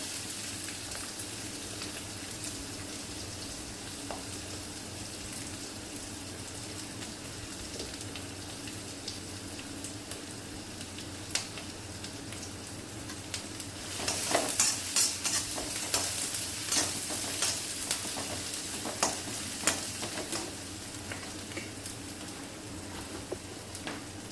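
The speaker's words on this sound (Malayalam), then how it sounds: "നന്നായി ഒന്ന് വഴറ്റി കൊടുക്കാം" Capsicum chicken sautéing in a pan, a steady sizzle with the scrape and clatter of stirring that grows busier and louder partway through.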